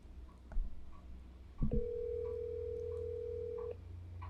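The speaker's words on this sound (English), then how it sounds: "The second podcast in a row I've called and haven't gotten my call picked up." A phone call goes unanswered: after a couple of handling clicks, a single steady electronic ringback tone sounds for about two seconds and then cuts off, moderately loud over a faint background hum.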